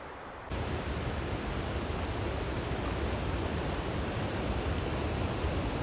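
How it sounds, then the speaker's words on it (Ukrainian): Water rushes through a damp, moss-covered forest in New Zealand, a dense and steady roar that swells in abruptly after a brief quieter moment and then continues unbroken and fairly close. "Починається шум води"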